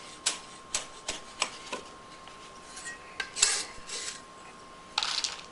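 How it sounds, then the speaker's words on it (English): A knife slices a hot serrano pepper on a cutting board in a home kitchen, giving a series of soft, quick cutting taps in an uneven rhythm followed by a few scraping sounds, all fairly faint. "It's a serrano pepper. They're pretty hot, so I figured one of these should give it enough heat for this dish. And I'm going to slice that up."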